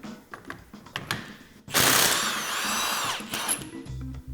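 A power tool spins off a castle nut on a Polaris RZR spindle hub, a loud, close, steady mechanical whir lasting about two seconds, with clinks and handling noises before and after and no talking.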